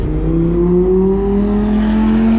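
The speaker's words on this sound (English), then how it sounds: "Lamborghini passing by, the Corvette." A Lamborghini passes on a race track, its engine a loud, steady drone rising slowly in pitch for a couple of seconds with no voices.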